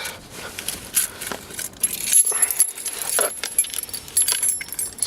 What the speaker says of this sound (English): now we're just gonna put the key in the ignition